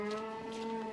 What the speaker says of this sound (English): just a moo